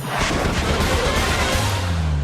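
A dense, loud roar of an explosion from an Israeli missile strike in Beirut rumbles and crackles continuously, with a low booming tail building toward the end.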